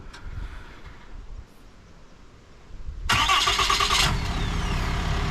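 A RAM 3500 dually pickup's engine cranks and catches about three seconds in, a sharp loud burst of starter whir settling into a steady close idle rumble, after quiet outdoor ambience.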